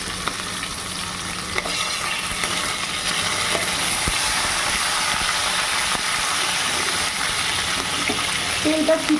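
Capsicum and tomato frying in hot oil with bay leaf, dried chilli and cumin, a steady loud sizzle and hiss with occasional stirring clicks throughout.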